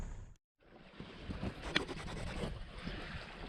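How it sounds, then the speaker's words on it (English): Steady breeze rushes past a sailboat making about six knots on a reach, with a broad, even wash of wind and water noise after a brief dropout near the start. "We found a tiny bit of wind."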